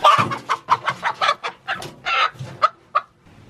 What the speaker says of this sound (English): But there is a little hen in here that I can catch.